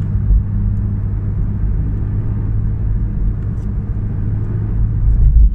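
A nearly new 2016 Porsche 911 GT3 RS on the move gives a steady, low engine drone with road rumble, heard from inside the car, loud and continuous, swelling slightly at the end.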